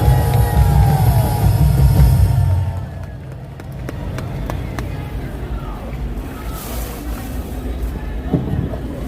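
An outdoor rally crowd bursts into loud applause and cheering after a speech, the clapping fading after a couple of seconds into scattered claps, murmurs and talk.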